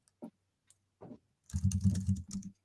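Keys on a computer keyboard clatter nearby, with a few isolated taps followed by a quick dense burst of typing, alone without voices.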